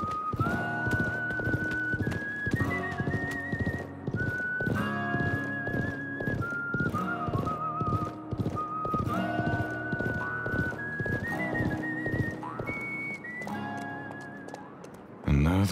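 In the video game Live A Live, rhythmic clip-clop of horse hooves trotting steadily, accompanied by whistling melody and occasional horse whinnies, with brief bits of speech.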